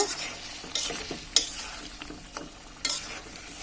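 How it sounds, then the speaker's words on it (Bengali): Sweet pumpkin with prawns being stirred in a pan, a few light scraping strokes over a soft steady simmer, close by with no talk. "এখন আমরা আবার হালকা করে একটু নেড়ে দেব"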